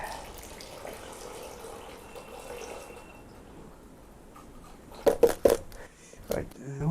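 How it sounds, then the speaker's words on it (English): Water drains during a service on a Kia Venga 1.6 CRDI, a soft, steady hiss of flowing liquid at moderate distance. A few sharp knocks and splashes follow near the end. "There's the water drain."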